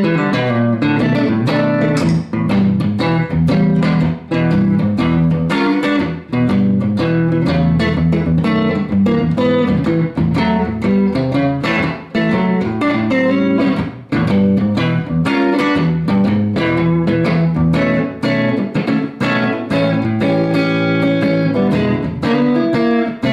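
A double-bound Beegee Bender electric guitar plays raunchy blues through an effects setup, a dense, loud and continuous stream of distorted chords and notes with no talking.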